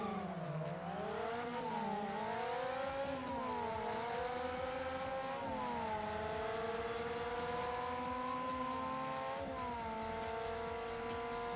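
A Ford Racing 2 car engine drones and revs continuously, pitch sweeping up and down through gear changes and cornering, with a faint tire squeal mixed in, loud and steady throughout.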